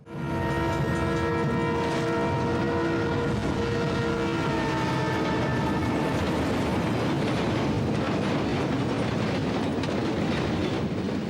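A train rolls past a level crossing in a film scene, a loud sustained rumble with rhythmic clickety-clack of wagons and a long horn blast in the first half, steady throughout with no talk.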